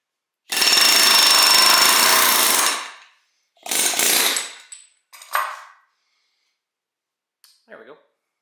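An air hammer rattles loudly in bursts while working on a Club Car golf cart's brakes, bushings and bearings: one long blast of about two seconds, then shorter bursts, with brief quiet gaps.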